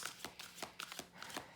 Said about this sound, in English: I'm just going to do a couple more shuffles here, and then I'm going to split the deck